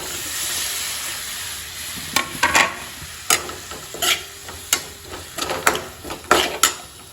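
Tomatoes cook in a pan while a utensil stirs them in sharp, irregular scrapes and clinks against the metal over a soft background sizzle, with no talking.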